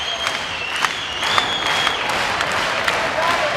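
A volleyball crowd at a women's match between Purdue and Louisville applauds and cheers in a dense, steady wash of clapping, swelling slightly midway, with a commentator's voice faintly mixed in.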